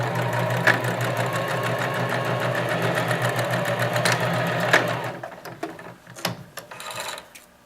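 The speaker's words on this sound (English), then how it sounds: "I'm going to sew a standard seam, reversing at both ends" A sewing machine stitches a standard seam in fabric with a steady, rapid mechanical whir for about five seconds. It then stops, leaving a few scattered handling clicks and taps.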